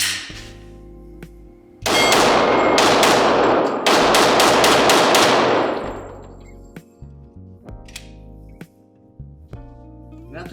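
A Glock 22 Gen 3 pistol in .40 S&W fires ten rounds in rapid succession, loud sharp reports packed into a fast burst of a few seconds with ringing echo, then quieter clinks and handling afterward.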